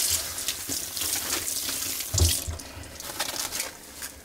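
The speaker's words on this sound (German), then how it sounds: "Einfach nur mit kaltem Wasser ein bisschen abschwemmen." Cold tap water runs into a sink while cling film is rinsed beneath it, a steady splashing stream with irregular spatters as the film moves through the flow, close and alone.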